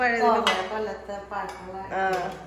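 An old metal idli steamer vessel clanks and rattles as it is handled, with three or so close, loud metallic knocks over a ringing, humming background.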